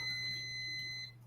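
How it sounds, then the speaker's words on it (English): A kitchen stove timer going off during cooking, a steady high electronic beep tone held continuously and fairly faint, heard alone over a low background hum. "Timer goes off."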